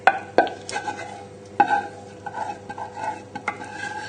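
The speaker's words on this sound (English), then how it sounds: "we'll spread it out with the back of the spoon" A spoon spreads tomato sauce over a sheet of vegetarian lasagne, making soft scraping and scooping sounds with a few sharper clinks against the dish, close by and with no talk.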